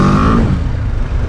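A BMW adventure tourer motorcycle accelerates up close with a loud, rising engine note at low RPM, a steady roar lasting just over a second with no talking.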